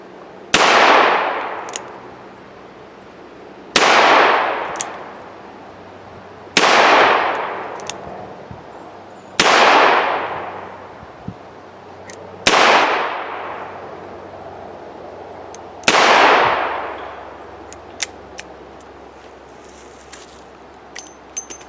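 Six sharp, loud revolver shots from a Ruger GP100 firing .38 rounds one-handed, spaced roughly three seconds apart, each followed by a short ringing decay, with no talking.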